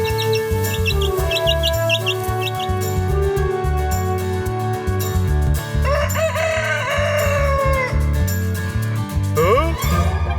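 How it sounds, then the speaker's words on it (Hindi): Chickens on a village poultry farm cluck and a rooster crows, animated cartoon-style, with repeated chirps and a drawn-out crow mid-way over a busy background, a voice briefly audible. "अब तो सबके पास अपनी मुर्गियों का फार्म है।"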